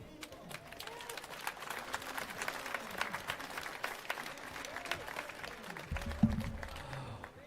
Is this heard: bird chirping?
no